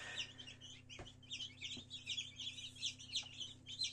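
Soft, high chirping peeps of newly hatched chicks in an incubator repeat rapidly and continuously, with a steady low hum underneath and a couple of brief knocks.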